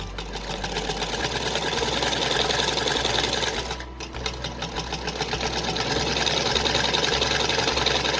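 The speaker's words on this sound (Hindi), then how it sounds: "हम यहाँ पर पहले सिंपल सिलाई लगा रहे हैं" An electric sewing machine runs fast and steadily, stitching lace onto a small polka dot dress for a Radha Rani idol, with one brief stop midway before the rapid whir resumes, close and alone.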